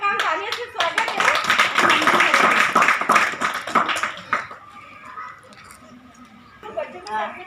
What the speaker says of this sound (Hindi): उनका हम तालियों से स्वागत है